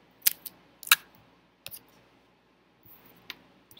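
Adhesive tape being pulled and pressed while a paper spring mobile is assembled: a few sharp, close crackles and snaps in short bursts with quiet gaps between, no talking.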